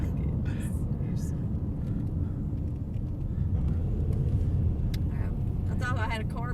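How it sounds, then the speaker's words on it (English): A four-wheeler ATV rumbles up from behind on a rural road in Pathfork, Kentucky, its low engine drone steady and fairly close under a voice talking throughout. "I thought I had a car behind me, but I got a four-wheeler behind me"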